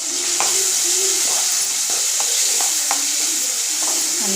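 Leftover cooked rice with turmeric fries in a pan, hissing loudly and constantly, while a spoon scrapes and stirs it in quick, irregular strokes close by.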